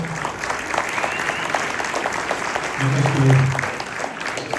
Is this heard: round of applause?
yes